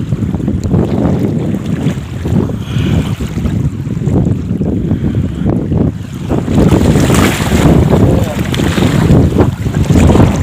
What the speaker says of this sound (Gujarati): મોજા કેવા આવે છે